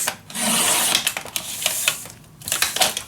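A paper trimmer slices through scrapbooking paper for a mini album page in a few close, rasping strokes, with short pauses between the cuts.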